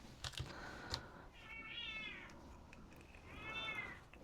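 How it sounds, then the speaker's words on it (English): A cat yowls loudly at a bathroom door, two drawn-out meows in a quiet room with faint tapping and clicks around them. "my cat is screaming at the bathroom door"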